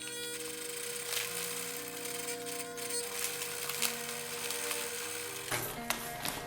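Sewing machine stitching through a feed bag tote, a steady continuous mechanical whir close by with small rattling ticks, running alone without talk.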